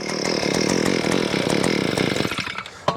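A gas-powered one-man post hole auger engine runs loud and steady with a rough, buzzing two-stroke drone, then sputters and cuts out near the end, followed by a sharp knock.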